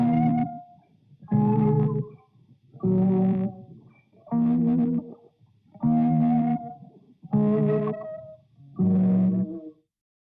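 A filtered synth patch with heavy chorus plays a chordal part low and a single-note line high, in seven evenly spaced phrases, each swelling and cutting off into brief silence.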